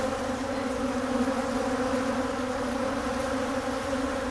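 Mean-tempered bees swarm around an opened hive during splitting and requeening work, a steady, close, droning buzz that fills the air evenly from start to end without voices.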